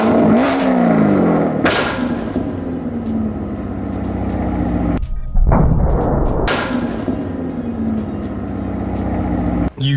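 A modified Chevrolet Corvette revs high, then its exhaust cracks with loud pops and bangs as it shoots flames, a roaring engine broken by sharp close bursts and a brief dip to near silence before the revving returns.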